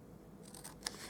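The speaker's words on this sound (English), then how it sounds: "Then we'll grab some scissors, and we're just going to cut up to the score lines on all of these sides." Scissors cut cardstock up to score lines in a few quiet snips, ending with one sharp, faint close-up click.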